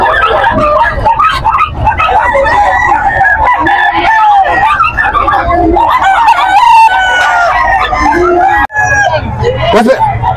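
Several fighting roosters crow repeatedly, loud and overlapping, at a rooster sale, over a busy background of crowd chatter and people talking.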